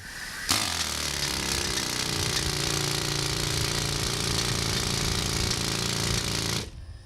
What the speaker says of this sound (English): those early pneumatic rock drills would get the nickname as a widowmaker. Let me give a little run for you, give you an idea of what they sounded like.